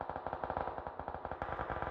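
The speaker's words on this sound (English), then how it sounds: "And I hear the gunfire." Rapid automatic gunfire in the video game PUBG Battlegrounds rattles out in a fast, steady stream of evenly spaced shots, fairly faint and with a slight echo, with no talking over it.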